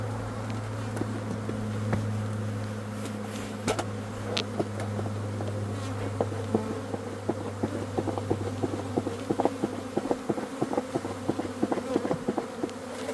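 Honey bees swarm around a hive frame lifted during a colony split, a steady dense buzz with a low hum beneath it and many small clicks and taps close by, with no talking.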